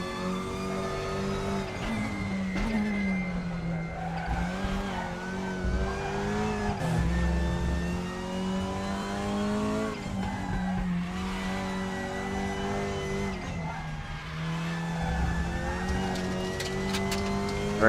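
Race car engines in the RaceRoom racing game roar continuously, with rising and falling revs through gear changes and corner entries, a steady loud drone with occasional tire scrubbing and no talk.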